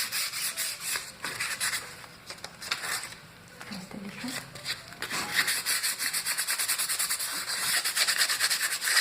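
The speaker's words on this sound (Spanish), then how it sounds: "vamos a lijar un poco el fondo" Sandpaper rubbed over the painted background of a sample piece, a rough, repetitive scraping with irregular back-and-forth strokes, quickening into a fast, steady rhythm toward the end, close up.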